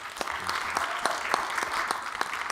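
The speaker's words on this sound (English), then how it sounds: "So round of applause for the commissioner." An audience at a keynote address applauds the commissioner with fairly faint, steady clapping, and a few sharper individual claps stand out.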